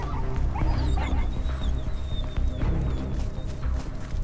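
A dog in the video game Beyond Two Souls whimpers and yelps in high thin cries over loud rumbling train-like game noise, close and distressed, repeated in short bursts.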